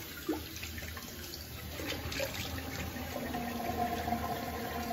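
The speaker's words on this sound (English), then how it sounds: "let's put some cold water on the face now" Cold tap water runs steadily into a sink during a straight razor shave, a continuous close hiss with faint splashes on the face over a low background hum.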